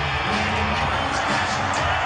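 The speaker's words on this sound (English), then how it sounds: "Listen to that crowd." Arena crowd at a professional wrestling event, a dense, continuous roar of cheering and whooping that fills the whole stretch without a break.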